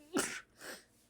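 A single sneeze bursts out close and loud, sharp at the start and trailing off, followed by a softer breathy after-sound.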